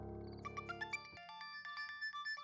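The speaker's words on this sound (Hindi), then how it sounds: "कब से फोन बज रहा है, उठा क्यों नहीं रही?" A mobile phone ringtone plays a bright electronic melody of short, rising notes that repeats, fairly quiet and alone with no talking.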